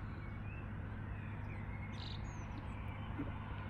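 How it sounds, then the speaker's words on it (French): A few faint, high morning chirps of small birds come through over the steady low rumble of a nearby idling truck engine. "les petits oiseaux, ils chantent"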